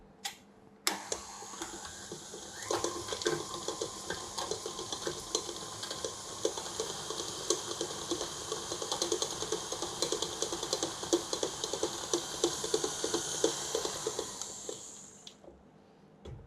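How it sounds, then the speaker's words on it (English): Butter being beaten in a bowl for eggless butter cookie dough: a steady, close run of rapid ticking and scraping from the mixer or beater that lasts throughout, with no talking. "I'm going to beat that until the butter is just broken down and becomes light and fluffy"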